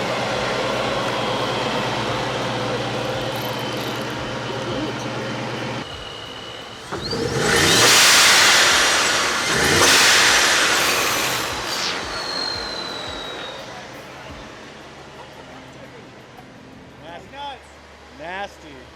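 A tuned 1,000-horsepower truck engine with the hood open, a loud roaring rev swelling twice in the middle after a low idle, with people talking before and after.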